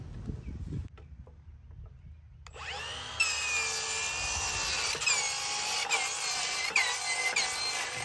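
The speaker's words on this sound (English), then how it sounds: "I talked about the power of this saw earlier, and in real time, it makes quick and accurate work" A power saw cuts pallet stringer wood for a DIY pallet bar, guided along a straight edge by a fence; after a few quiet seconds of handling, a loud, steady, close cutting whine takes over and holds to the end.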